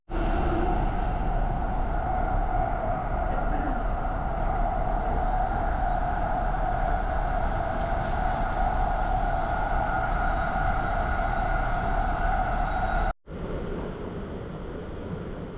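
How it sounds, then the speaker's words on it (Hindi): Steady, loud rumble of a train carrying passengers toward JFK airport in New York, with a continuous hum and rattle, a brief drop near the end, then the rolling noise resumes; nobody speaks. "ये ट्रेन मेरे ख्याल से आई हुई है तो इस पर बैठते हैं"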